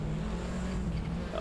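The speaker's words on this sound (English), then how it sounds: "I am going to try and tame the Cosworth RS500" Cosworth RS500 race car engine in the Assetto Corsa game, a steady, moderately loud droning hum held briefly without pauses and with no talking.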